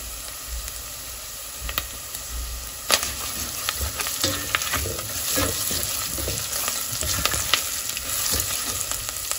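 Ginger-garlic paste with turmeric, chili and coriander powder sizzles steadily in hot oil, with scattered louder stirring scrapes and pops throughout, close and continuous with no talking.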